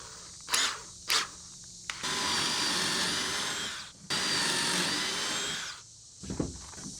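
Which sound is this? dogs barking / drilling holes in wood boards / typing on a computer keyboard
drilling holes in wood boards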